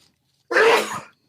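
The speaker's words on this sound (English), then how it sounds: "took off his headphones to cough, but didn't bother to hide his mic" A single short, close cough from a man on a podcast microphone, sharp at the start and trailing off within about half a second, alone in an otherwise quiet room.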